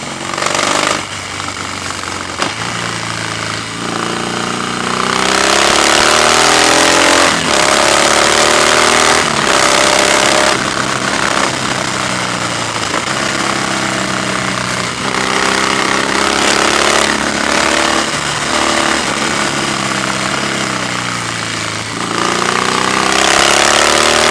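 2015 Harley-Davidson Softail Breakout V-twin accelerating on the road, loud throbbing engine close by with repeated rising pitch sweeps as it pulls through the gears, heavy wind noise throughout.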